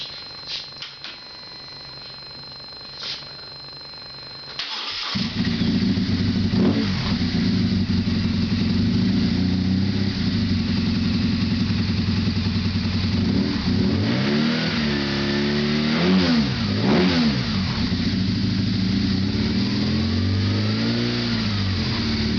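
A BMW R1200S motorcycle fitted with an Akrapovic exhaust is heard over a few seconds of quieter background, then fires up loud and close and idles with a steady deep rumble, rising in several sharp revs near the end.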